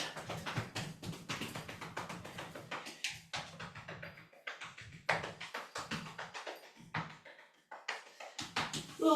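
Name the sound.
palms knocking and tapping on the lower back over the kidneys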